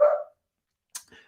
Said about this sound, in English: I know that you can probably hear my dog barking in the background,